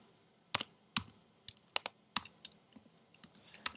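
Typing on a computer keyboard, crisp separate key clicks in an irregular rhythm, near and fairly quiet, with no talking.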